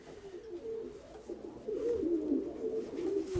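Pet pigeons coo in a low, rolling, continuous murmur nearby, growing slightly louder partway through.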